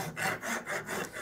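A wooden dough whisk clamped in a vise is worked with a hand file, four even rasping strokes in a steady back-and-forth rhythm, close and moderately loud with no voices.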